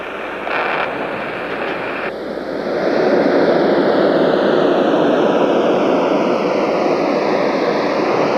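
A jet aircraft descends with its port engine failing, a loud steady roar with a long falling whine sweeping down over several seconds and building after an earlier higher tone cuts off.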